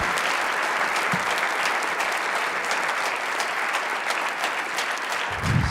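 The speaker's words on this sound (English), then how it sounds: "how about another round of applause to thank Dr." Steady audience applause fills a university research day keynote hall after a talk, dense and even throughout with a few low thumps near the end.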